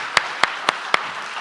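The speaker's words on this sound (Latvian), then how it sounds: "Aplaus vēl vienreiz Gintam." Applause for a speaker comes through as four sharp, evenly spaced claps in quick succession, close and distinct, followed by a quiet room.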